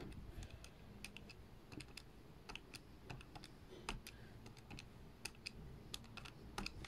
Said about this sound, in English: you're going to type in each bit of data and you press an equal to sign in between